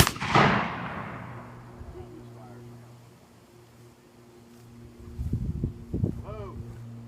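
The front rank of riflemen fires a volley as one loud, close blast that booms and decays over about two seconds, followed by quieter outdoor ambience and brief voices talking.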